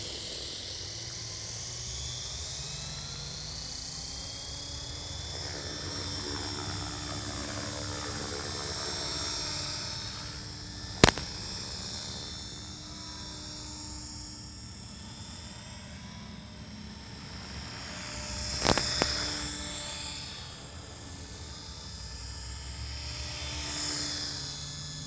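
A radio-controlled model helicopter flies around with a steady high-pitched rotor and motor whine that rises and falls in pitch as it moves, accompanied by a constant hiss and a couple of sharp ticks.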